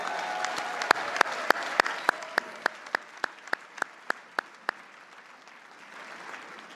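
Applause for the Auburn, Washington mayor's wife at a public event: a sparse, evenly spaced run of about fifteen sharp claps that stops, leaving faint room hiss.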